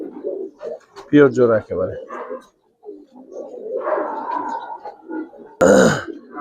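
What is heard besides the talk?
silver giribaz pigeons cooing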